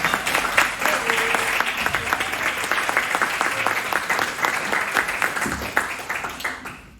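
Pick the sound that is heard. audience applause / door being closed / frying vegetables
audience applause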